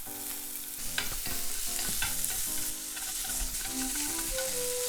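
Sausage fries with onion and garlic in olive oil in a frying pan for spaghetti Napolitan, a close, steady sizzle with regular stirring and scraping strokes, and no voices.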